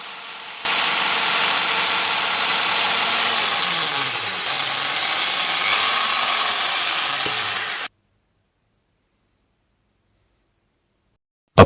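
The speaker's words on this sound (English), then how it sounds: "Two small holes are drilled to eject the bearings." A drill bores two small holes in an angle grinder gearbox housing, producing a steady, loud mechanical whir for several seconds that stops abruptly into silence.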